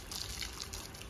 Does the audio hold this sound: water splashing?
yes